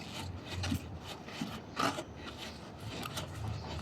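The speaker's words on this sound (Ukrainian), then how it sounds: "зачищаємо від грязі пилу, який з часом сюди" Steady rasping and rubbing strokes scrape dirt and dust off a car body near the boot gas strut mount of a 2013 Ford Focus, with a few sharper scuffs standing out, close and moderately loud.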